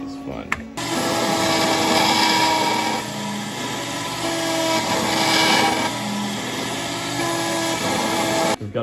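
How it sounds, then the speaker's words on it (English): A dedicated beveling machine grinding the edges of plaques, a steady loud mechanical whir and rasp running continuously for several seconds before cutting off abruptly. "We've got a machine dedicated just to beveling the edges of plaques"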